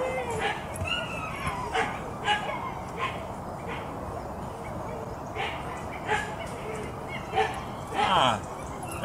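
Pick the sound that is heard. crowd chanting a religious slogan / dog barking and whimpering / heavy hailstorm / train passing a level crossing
dog barking and whimpering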